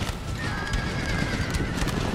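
Horses whinny and hooves clatter amid the chaos of a video game battle, a close, busy layer of neighing and clip-clop over a dense roar of fighting.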